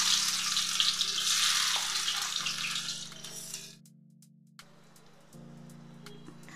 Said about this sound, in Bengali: সাদা তেল দিয়ে দিচ্ছি, পেঁয়াজটা দিয়ে দিলাম,